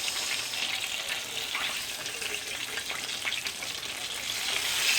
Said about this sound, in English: Southern fried catfish.